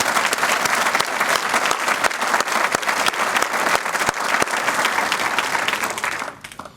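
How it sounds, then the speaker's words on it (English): At a township address, an audience applauds the police, a loud, close burst of clapping with sharp individual claps standing out, sustained before fading away at the end. "And I'd like to thank them and applaud them for the work that"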